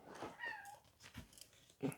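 A persistent house cat making a few soft, close meows and small vocal sounds indoors, quiet and intermittent with no talking.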